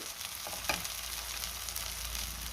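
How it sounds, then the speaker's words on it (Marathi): Masala paste for paneer masala frying in hot oil in a pan, a steady close sizzle with a brief stirring clatter near the start, no voices. "मसाला छान परतून झाला आहे छान तेल आहे आपल्याला असाच मसाला परतून घ्यायचा आहे"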